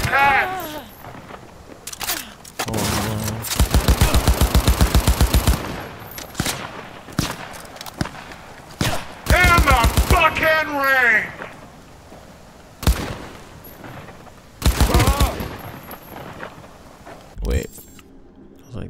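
Bursts of rapid automatic gunfire in the video game Cyberpunk 2077, several loud sustained volleys separated by pauses, with sharp single shots scattered between them.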